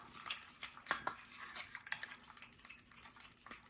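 A spoon clinks and scrapes against a bowl while stirring chia seeds topped with coconut cream and cinnamon, giving light, irregular taps and soft scraping close by, with a few sharper metallic ticks.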